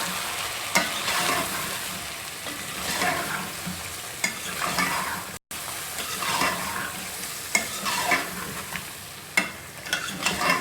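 Chicken sizzles in a pan with masala, salt, red chilli and turmeric for biryani while a spoon stirs it, giving continuous frying crackle and repeated scraping strokes, close and steady, with no talk.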